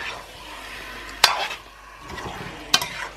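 Stewed beef being stirred in a pan, a soft sizzle under two sharp metallic knocks of a spoon on the pan's edge, near and without talk.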